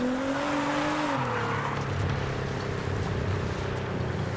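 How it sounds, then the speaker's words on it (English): A Ferrari 488 engine in Forza Horizon 5 drones steadily and close, its pitch dropping as it shifts down, then holds a lower rumbling tone throughout. "Nice Ferrari, bro."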